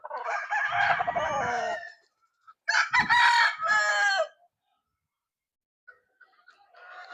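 A six-year-old Ormoc Gold rooster in a small backyard chicken coop crows loudly and close twice, then a fainter crow begins near the end.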